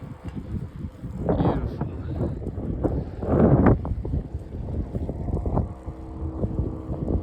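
Wind buffets the microphone on a mountain bike trail, gusty rushing noise that swells and fades in irregular bursts throughout, close and fairly loud.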